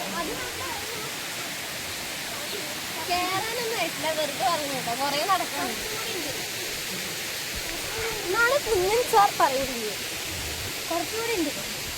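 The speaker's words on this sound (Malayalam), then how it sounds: "അവിടുന്ന് വരുന്ന അരുവിയാണത്" Steady rushing water from a mountain stream near Thirunelli in Wayanad fills the background, with people talking over it throughout.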